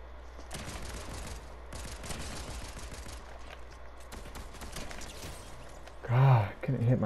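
Rapid bursts of pulse rifle fire in Fortnite, repeated fast shots with several short pauses, heard moderately loud, followed by a voice speaking at the end.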